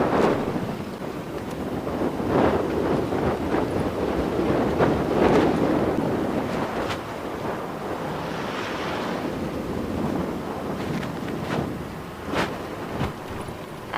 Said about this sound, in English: And the wind is attempting to blow my hat off as well.